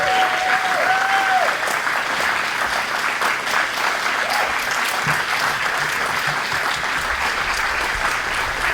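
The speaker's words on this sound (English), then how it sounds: "We've got a little clap for you." Outdoor crowd at a July Lobsterfest gives sustained, even applause for an honoree, steady clapping from many hands lasting several seconds with no talk over it.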